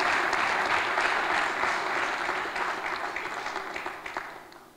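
Audience applause at a church service, a dense, loud wash of clapping from a crowd that slowly thins and fades toward the end, with no talk over it.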